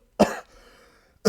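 A single sharp cough from a narrator reading a dark pony fan-fiction story, followed by a faint breathy pause and the start of a second cough, alone without speech.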